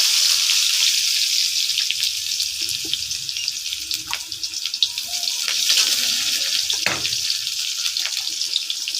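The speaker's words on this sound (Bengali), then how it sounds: "তো পেঁয়াজটাকে একটু হালকা করে ভেজে নেব।" Onion frying in hot oil in a home kitchen, a loud, steady hiss with crackling spatters and occasional stirring clatter.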